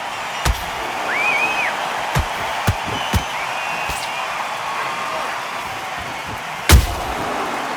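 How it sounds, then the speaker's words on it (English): A counter punch landing in the Undisputed boxing video game, heard as sharp isolated thumps spread across several seconds, one markedly louder near the end, over a constant crowd-like wash. "And he wasn't ready for that counter punch"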